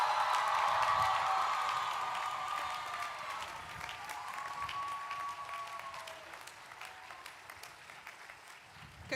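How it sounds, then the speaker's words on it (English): Audience applause for nursing graduates at a university commencement ceremony, a dense wash of clapping that starts loud and gradually thins and fades over about nine seconds, with a few cheers mixed in. "do we have a round of applause for all the graduates from the School of Nursing?"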